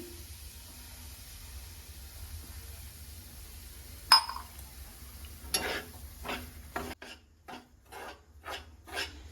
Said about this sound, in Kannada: ಇವಾಗ ಅದ್ರೊಳಗಡೆ ನಾನು ರವಾನ ಹಾಕೊಂಡು ಹುರ್ಕೊಳ್ತೀನಿ.